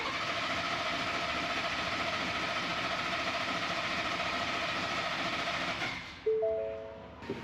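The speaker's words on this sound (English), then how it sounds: "turn it on, crank it for about 10 seconds or so to prime the engine" A Ford 3.5L EcoBoost engine cranks steadily with its fuel pump disconnected, a dense continuous churning that holds for several seconds before cutting off, followed by brief quieter tones.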